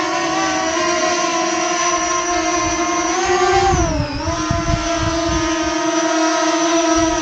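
JJRC X12 drone hovering and drifting without GPS, a steady close motor whine with layered tones that sags and recovers in pitch midway as it adjusts.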